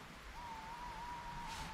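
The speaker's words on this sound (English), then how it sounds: "Can you hear that owl?" An owl calling outdoors on a pitch-black night at a wild camp, a single faint, steady hoot held for over a second against quiet background hiss.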